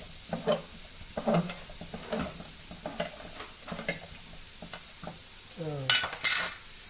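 A pot of rassolnik with pearl barley simmers beside something frying on a stove, giving a steady close sizzle and hiss with soft stirring and utensil clinks scattered through it.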